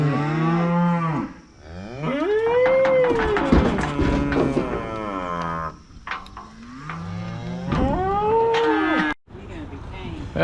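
Cattle mooing during an evening check in hot weather, several long, loud bellowing calls from close by following one another with brief pauses, with faint rustling between them.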